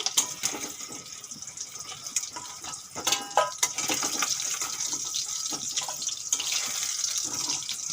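Water poured from a tap or jug into ground spice paste for straining while cooking macher tel jhol fish curry, a steady close gushing splash lasting the whole clip with no talk.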